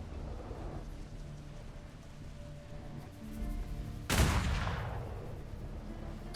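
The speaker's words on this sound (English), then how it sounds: "Did they just fire small arms at us?" A sudden loud crack of small-arms fire bursts out in a pirate ship video game, standing out sharply against a quiet background hum and trailing off slowly.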